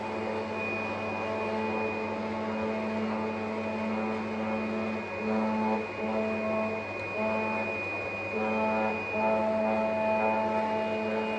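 A PFI Blade B2+ cutting machine runs steadily throughout, a constant mechanical drone with a fixed whine and hum, fairly close and unbroken, with no talking.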